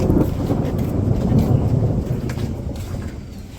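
Thunder rolls low and heavy over steady rain in a village storm, a deep sustained rumble that swells and then eases back under the hiss of falling rain.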